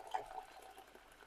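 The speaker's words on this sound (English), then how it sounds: "So now we've got some boiling water here" Salted water boiling in a pan for cooking swede, bubbling and churning in a steady soft gurgling wash with a brief louder splash near the start.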